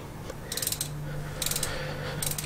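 A ratchet wrench undoing a nut on a Ford Prefect car engine, three short bursts of rapid metallic clicking, close and fairly loud, with pauses between strokes and no talk.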